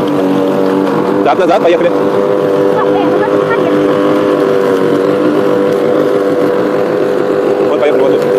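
A Huter GLM-420LT petrol lawn mower runs steadily while mowing grass, giving a loud, close, continuous engine drone with a stable pitch, and someone speaks over it.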